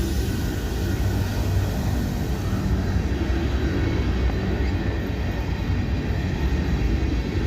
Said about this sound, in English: this is a big old train, and this is a steep old hill over here